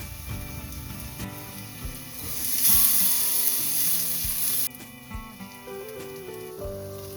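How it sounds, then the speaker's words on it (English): Chopped onion goes into a hot pan for Filipino pinakbet, a steady broad sizzle rising for a few seconds and then easing, with faint stirring and clinks over background music. "Next I'll add some onion."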